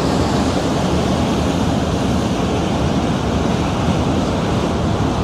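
A cruise boat moves along the St. Lawrence River among the Thousand Islands, heard from the back of the boat as a loud, continuous rush of churning water and wind with no break.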